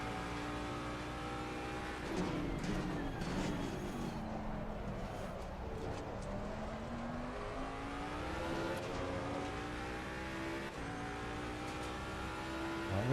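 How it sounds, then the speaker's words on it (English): A race car engine in Assetto Corsa Competizione revs hard and holds high, its harmonic whine climbing and dipping through gear changes across a sustained, steady drone, with a voice talking faintly underneath. "You've really got to rev this out as well"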